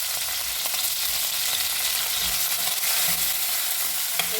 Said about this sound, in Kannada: ಆನಿಯನ್ನು ಫ್ರೈ ಮಾಡೋಕ್ಕೆ ಹಾಕಿದ್ದೀನಿ